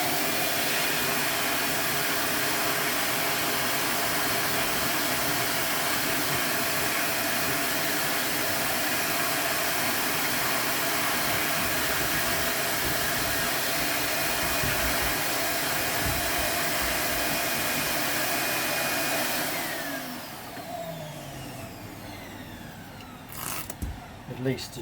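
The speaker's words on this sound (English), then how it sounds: "so what I'll do, I'll hoover this" A vacuum cleaner cleans the cloth of a Celestion Ditton 66 loudspeaker, whining loud and steady for about twenty seconds, then shutting off and winding down to a few faint knocks.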